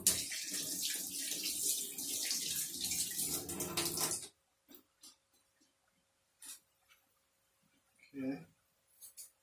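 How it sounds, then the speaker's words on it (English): Hands are washed under a running kitchen tap after peeling yams, a steady broadband rush of water for about four seconds, followed by quiet with a few faint clinks and small handling sounds. "I'm gonna peel them and then I wash off my hands."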